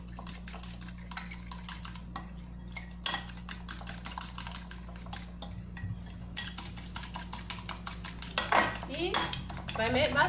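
Whisking an oat batter for a sardine pie in a bowl gives a steady stream of quick clinks and scrapes of utensil against the bowl, close and fairly loud, with no talk over it.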